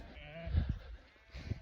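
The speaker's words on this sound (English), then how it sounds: "When I got these goats, I didn't expect that they would come on my sheep rounds." Sheep and goats on a Yorkshire Dales farm give a few short bleats, one around the middle and another near the end, over a quiet outdoor background with faint voices.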